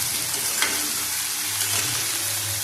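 Dry red chilies and poppy seed paste frying in a pan for aloo posto, a dense continuous sizzle heard close up, steady and loud with no talking.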